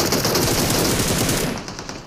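A rapid, loud burst of automatic gunfire fills a battle royale video game fight in the last zone, dense and sustained before trailing off at the end.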